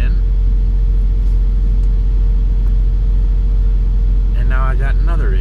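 A truck engine idling with a constant low hum and a steady drone, running throughout, joined near the end by a voice speaking briefly over it.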